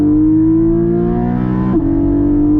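2021 Porsche Cayman GT4 with PDK gearbox revving hard in second gear toward 8,000 RPM, a loud, close, sustained high-pitched engine wail climbing steadily, with a brief dip at an upshift before pulling on.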